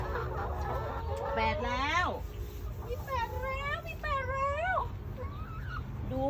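Chickens in a coop give a string of rising, bending clucks and calls in several bursts over about six seconds, fairly close, with a low background hum and a person talking at points.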